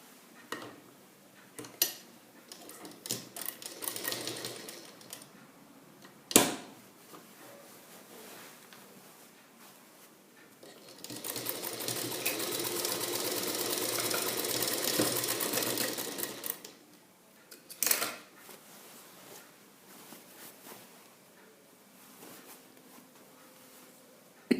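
A sewing machine stitches the pocket piece of a salwar pant, with scattered clicks and short bursts and then a long continuous run of rapid needle chatter, close and alone with no speech.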